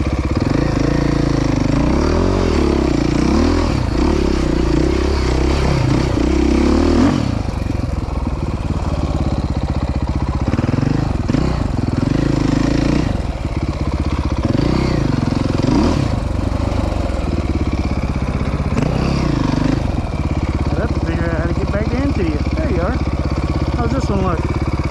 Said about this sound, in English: Lean the bike and then twist the throttle and it'll turn.